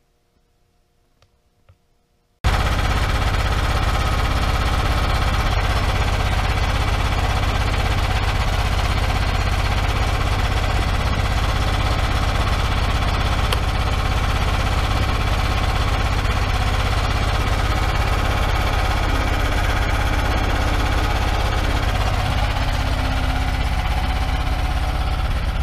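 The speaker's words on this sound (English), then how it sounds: "start the generator." A portable generator with a key start and choke fires up after a short quiet moment, then runs steadily at a loud, constant idle with a dense mechanical drone and vibration that continues unbroken.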